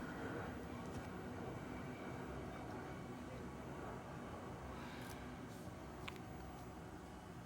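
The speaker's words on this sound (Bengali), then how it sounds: "train coming" A passing train, a steady low rumble sustained throughout with faint higher clicks near the end, heard under people talking.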